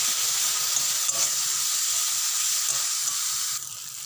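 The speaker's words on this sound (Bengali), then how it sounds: "এবার এই যে মশলাটা আমি এর মধ্যে দিয়ে দিচ্ছি। ভালোভাবে মশলাটা কষিয়ে নেব।" Spice paste frying in a pan with garlic and tomato for a fish curry, a loud continuous close-up sizzle with faint stirring that drops slightly near the end.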